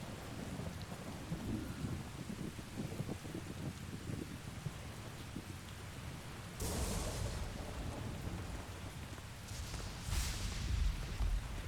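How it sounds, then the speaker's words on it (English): Thunderstorm with steady rain in the video game Tales of Berseria, a continuous soft hiss of rainfall under low rumbling, with brighter cracks of thunder swelling partway through and again near the end. "Lovely storm. Guess the weather's feeling as crummy as I am."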